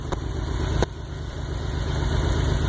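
A van's six-cylinder engine idles with a steady low rumble and even pulsing, one sharp knock partway through, loud and close with no talk.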